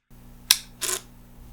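A Panasonic GH5S camera switching on with a fault: a sharp mechanical click followed by a brief whirring burst as the shutter tries and fails to open, close and isolated over a faint electronic hum.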